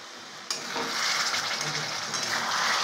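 Green chillies soaked in vinegar hit hot oil in a pan for chili chicken, bursting into a loud, steady sizzle after a brief quiet start, with faint stirring scrapes underneath.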